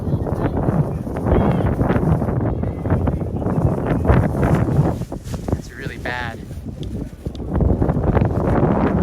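Strong gusty wind buffets the microphone in heavy, roaring bursts at an outdoor barbecue place in Japan in summer, with a person talking briefly underneath.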